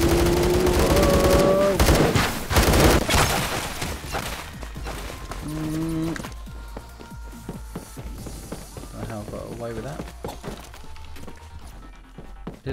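Rapid volleys of gunfire in the Roblox shooter game Phantom Forces crackle loudly at first, then thin into scattered distant shots and impacts amid game effects.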